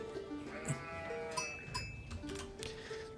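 Sheep in the real-time strategy game Age of Empires IV bleat faintly in several short, wavering calls over a busy background of soft game sounds and chimes.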